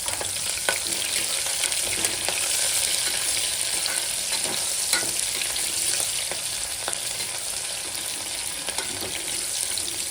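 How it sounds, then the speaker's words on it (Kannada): Onion and green chillies frying in a pan for a puffed-rice and dill bath, a steady close-up sizzle with occasional clicks from stirring, no voices. "ಸ್ವಲ್ಪ ಈರುಳ್ಳಿ ಸ್ವಲ್ಪ ಹಸಿಮೆಣಸಿನ್ಕಾಯಿ ಹಾಕ್ಕೊಂಡು ಚೆನ್ನಾಗಿ ಫ್ರೈ ಮಾಡ್ಕೊಳ್ಳೋಣ"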